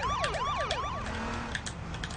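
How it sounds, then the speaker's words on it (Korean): Rapid wailing siren from the online survival shooter H1Z1, sweeping up and down several times in quick cycles, loud and close, with no voices over it. "아 사이렌 좀 꺼야 돼."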